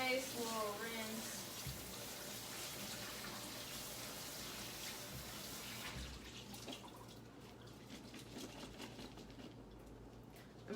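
Kitchen tap water running over cut Brussels sprouts in a strainer, a steady close rush of water with a splashing patter, softening midway, and no talk over it.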